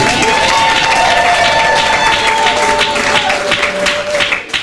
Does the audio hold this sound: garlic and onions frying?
no